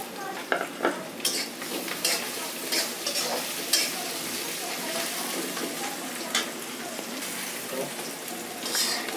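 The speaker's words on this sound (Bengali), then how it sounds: "পেঁয়াজ রসুনটা আমি বাদামি কালার না হওয়া পর্যন্ত ভেজে নেব" Onion and crushed garlic fry in a pan with a constant close sizzle while a utensil stirs and scrapes in repeated bursts, and a voice speaks over it.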